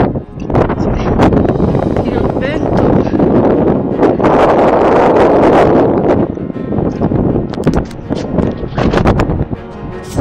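Gusty wind buffets the microphone near a mountain summit at Campo Felice, loud rushing surges rising and falling over about ten seconds with no clear talk.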